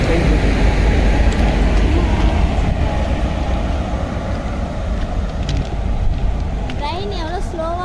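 A loud, steady rumble from a slowing train fills the clip, with rolling rail noise throughout and faint whining tones toward the end.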